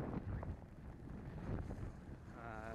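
A breezy east wind at a sailing clinic on the water produces steady low rumbling gusts buffeting the microphone, loud and continuous across the whole moment with no clear voices.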